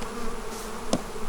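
Honeybees drone around an open hive in a backyard bee yard during feeding and beetle clearing, a low continuous buzz with one short sharp sound near the end.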